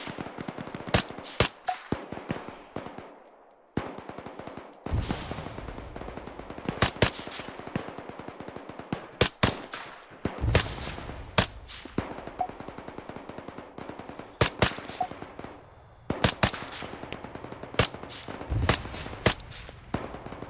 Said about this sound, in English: I do a bit of shooting trying to hit their toes on shooting through the metalwork